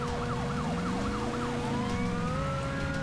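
A police siren in GTA V wails in repeated rising and falling sweeps, fairly close, then shifts to a steadier tone over a low engine hum.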